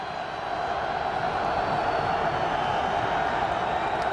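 A stadium crowd at the 2010 NFL Wild Card game, Packers at Eagles, sends up a steady, distant roar that holds an even level throughout without distinct peaks.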